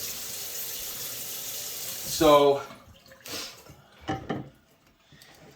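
A leaking, broken faucet sends a steady hiss of running water that stops abruptly partway through, leaving quieter splashes and dripping while a person speaks briefly nearby.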